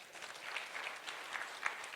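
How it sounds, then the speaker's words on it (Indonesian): Congregation during a church sermon gives a short burst of applause, fairly faint and distant, scattered claps blending into a soft continuous patter. "Tepuk tangan yang keras."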